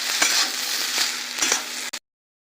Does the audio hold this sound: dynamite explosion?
no